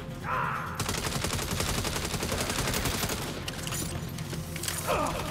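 Rapid, steady gunfire rattles almost without pause in a Saints Row shootout, loud and close, with mechanical clicks at the start and faint voices near the end.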